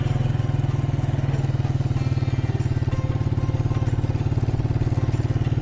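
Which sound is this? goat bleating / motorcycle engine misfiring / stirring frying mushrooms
motorcycle engine misfiring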